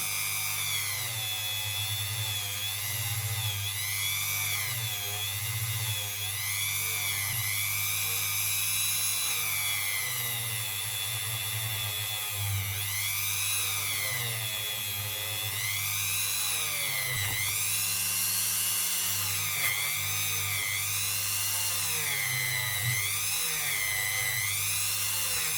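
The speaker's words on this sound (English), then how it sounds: "I get Dave the Dremel" A Dremel rotary tool cleaning up a narrow-band coin ring made from a 1951 two-shilling coin, a continuous high whine that dips and rises in pitch as it bites the metal, close and loud.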